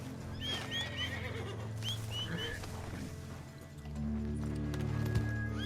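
A horse in the Red Dead Online video game whinnies several times, with galloping hoofbeats running underneath and a deeper ambient rumble joining later; moderately loud, no talking.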